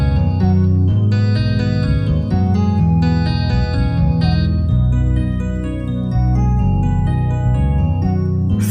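A dense trap beat melody runs through the Saturn saturation plugin in FL Studio, with loud, thick, distorted synth chords over heavy bass and steady rhythmic hits, filling the whole stretch without talk.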